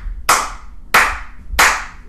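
Three sharp, evenly spaced hand claps ring out alone and close, each with a short decaying tail, clapping a steady rhythm back during a rhythm-reading game.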